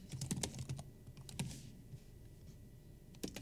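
Password typed on a computer keyboard, a quick, faint run of close key clicks with brief pauses, heard alone in a quiet room.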